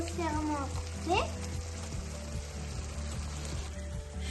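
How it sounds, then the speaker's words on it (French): Gambas (prawns) grilling in a pan, a low steady sizzle with occasional stirring clinks and scrapes and a faint voice in the background. "laisser nos gambas bien grillées, enfin presque bien grillées"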